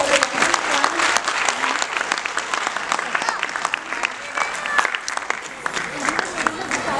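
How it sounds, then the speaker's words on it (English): Parents applaud at a children's event, a dense, lively round of clapping that carries on throughout, with a few voices and cheers mixed in over it. "Parents, can you please have a round of applause"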